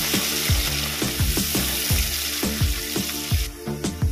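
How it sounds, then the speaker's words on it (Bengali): Chopped onions frying in a pan for a Bengali katla fish kalia, a steady loud sizzle broken by repeated rhythmic scrapes of a spatula, about two each second, with no talk. "পেঁয়াজটাকে লাল করে ভেজে নেব।"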